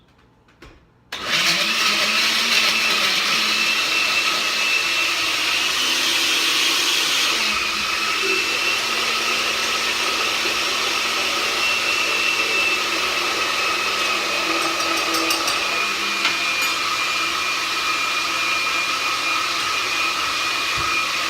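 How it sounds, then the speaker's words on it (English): A blender whirs loudly through a juice mixed with apricot kernels, kicking in abruptly after a brief quiet moment and holding a steady, harsh motor roar that shifts slightly in tone partway through before running on to the end, with no talking. "And whack it in the blender."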